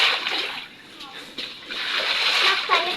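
Water splashing and sloshing as rainwater is swept and cleared from a floor, a broad wet hiss with a few sharper splashes, close by and fairly steady, with a voice in the background.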